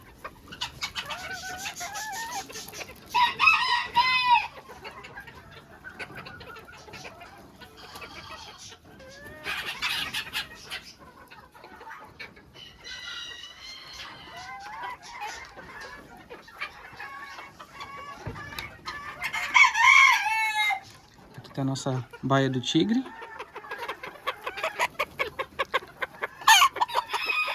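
Polish hens with crests and beards cluck around a farm pen while roosters crow loudly several times at intervals, and someone talks briefly between the calls.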